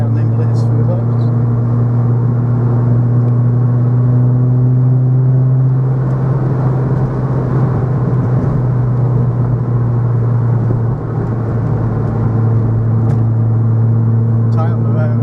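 A 2000 Ford Puma Racing drives along a country road toward bends, its engine a steady loud rumble with tyre and wind roar throughout, heard from inside the cabin.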